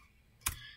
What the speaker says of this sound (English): I'll type an exclamation point, hit tab